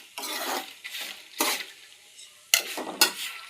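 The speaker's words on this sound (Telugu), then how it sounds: "సిమ్లో పెట్టి వేయించుకోవాలండి" Dried red chillies frying on low heat in a kadai for gongura pulihora chutney, stirred with a utensil in bursts of scraping and sizzle, several louder scrapes near the end, close and moderately loud with no talk.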